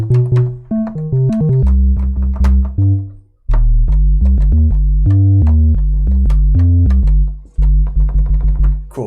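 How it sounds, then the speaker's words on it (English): A deep synth bass patch built in Ableton Live plays a run of short and held notes with a booming low end, loud and close, with a brief gap before the line resumes; no voices. "It's like this, kind of deep bass."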